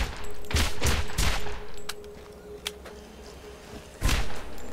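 Loud bursts of automatic gunfire in Borderlands, a cluster of heavy shots early, a couple of sharp isolated cracks, then another burst near the end, over low ambient hum.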